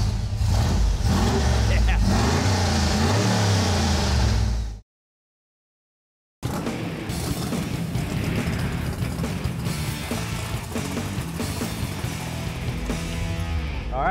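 A GM LS2 crate engine roars loudly with its exhaust cutouts open, holding a heavy, rumbling blast for several seconds, cutting out abruptly, then returning at full volume.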